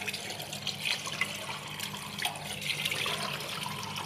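Water runs softly from an open kitchen tap while mutton is washed, a faint steady splashing and trickle with small fluctuations.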